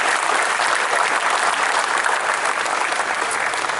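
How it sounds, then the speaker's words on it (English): Sustained applause from a crowd at the Ohio State statue unveiling ceremony in the Ohio Stadium rotunda, steady and dense clapping with no voices over it. "So let's give Gene and Sheila a round of applause"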